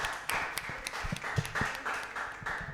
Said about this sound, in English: Let us give a round of applause for candidate 7.